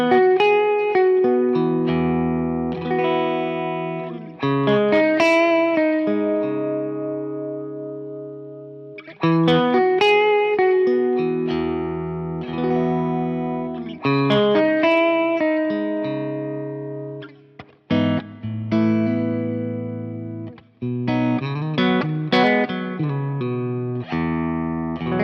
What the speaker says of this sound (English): the reverb that comes with the software is called Studio Reverb.